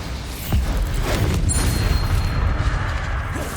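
Bombarda explosion spell in Hogwarts Legacy: a loud booming detonation that hits suddenly, then leaves a rough, crackling rumble trailing for a few seconds.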